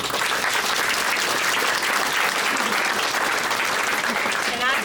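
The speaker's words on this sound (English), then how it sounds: "let's do a round of applause for all these leaders that made this." A crowd at a hospital ICU expansion ribbon cutting applauds loudly and continuously, the close, dense clapping holding steady throughout with a faint murmur of voices beneath.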